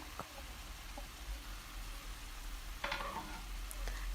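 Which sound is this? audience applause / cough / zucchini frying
zucchini frying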